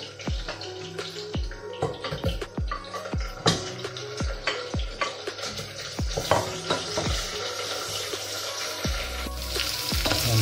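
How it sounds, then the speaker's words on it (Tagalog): Garlic, onion and ginger sauté in a pan with a bright continuous sizzle, punctuated by a rapid series of dull spatula knocks against the pan, close up and with no speaking. "inigisa ko na bawang, sibuyas, luya"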